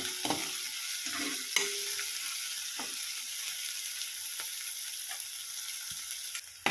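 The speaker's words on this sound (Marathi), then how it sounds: "टोमॅटो टाकते आता टोमॅटो पण आता छान भाजून घ्यायचा आहे" Tomatoes fry in a pan for a green pea chutney, giving a steady close sizzle throughout with occasional scrapes and stirs of a spoon against the pan.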